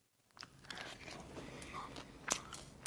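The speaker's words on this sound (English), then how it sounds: "It's nice and crunchy on the outside and soft in the inside." A crunchy air-fried potato ball is bitten close to the mic, a faint crisp crunch followed by quiet chewing, with a couple of sharper crackles near the end.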